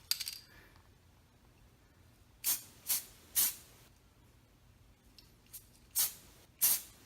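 Spray can of primer misting a base coat onto miniatures in about six short hissing bursts, close and fairly loud, separated by quiet gaps.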